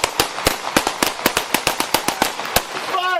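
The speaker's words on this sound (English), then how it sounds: "HQ, shots fired by police. Shots fired." Police gunfire during a Jacksonville traffic stop, recorded on an officer's body camera: a rapid volley of about fifteen sharp, loud shots in quick succession, followed by a voice at the end.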